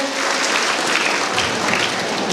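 Audience at a college annual function and prize ceremony breaks into loud, sustained applause to welcome a guest, a dense close wash of clapping throughout.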